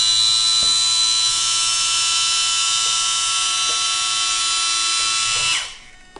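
The hydraulic mechanism of an RC truck with realistic hydraulics runs as a loud, steady electric pump whine with faint clicks, heard close and alone, before it cuts off near the end.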